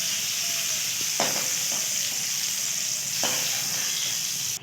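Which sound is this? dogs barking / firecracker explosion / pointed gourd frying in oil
pointed gourd frying in oil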